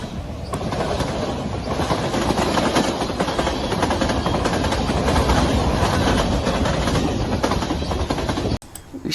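Train M627, a CN-patched City Rail unit, rumbles steadily past at close range with continuous wheel and engine roar and a faint clickety-clack, loud throughout before cutting off abruptly near the end.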